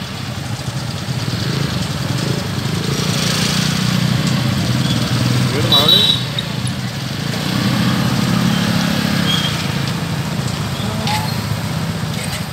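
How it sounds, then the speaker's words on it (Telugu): Steady drone of many motorcycle engines idling and revving together in a bike rally for Telangana's decade celebrations, loud and continuous, with faint voices mixed in. "తెలంగాణ దశాబ్ది ముగింపు ఉత్సవాలలో భాగంగా బైక్ ర్యాలీ చేపట్టారు"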